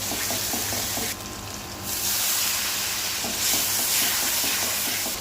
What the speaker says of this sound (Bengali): আমার মশলাটা খুব ভালোভাবে কষানো হয়েছে